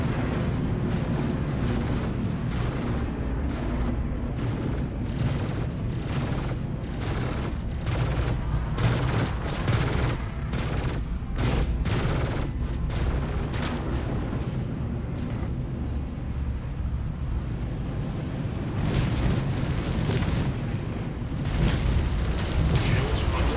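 Heavy fighter cannon volleys and explosions in Star Citizen, rapid repeated bursts of gunfire with booming impacts over a dense rumbling engine bed, loud and continuous, with a few voice comms mixed in.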